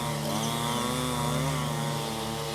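A chainsaw runs at a steady, high-revving drone while working in remote rainforest land. It is loud and close, with a continuous engine whine and no voices.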